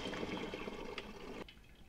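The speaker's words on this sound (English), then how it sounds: "I'm just gonna pour the boiling water carefully" Boiling water is poured from above into a bucket over brood comb for rendering wax: a loud, steady splashing gush that stops abruptly, leaving a faint trickle.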